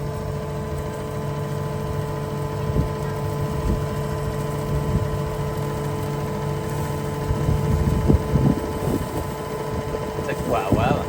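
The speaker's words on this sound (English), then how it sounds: "Just unfolding" Fendt 724 tractor unfolding Heva cultivator discs in a field, a steady loud diesel engine drone with hydraulic whine and intermittent clunks, rising slightly toward the end.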